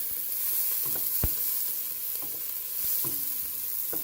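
Onions browning in a hot pot over medium-low heat sizzle with a steady soft hiss, broken by a few sharp clicks and scrapes of stirring.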